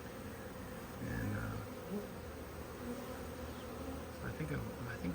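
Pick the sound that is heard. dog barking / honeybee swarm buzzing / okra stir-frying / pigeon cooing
honeybee swarm buzzing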